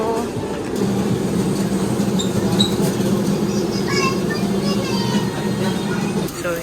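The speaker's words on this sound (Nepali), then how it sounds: "ल यो चाहिँ ट्रेन स्टेसन।" Busy London train station concourse with a broad, steady crowd-and-machinery rumble that holds for several seconds, a few faint high squeals or announcement tones drifting through, and scattered voices in the background.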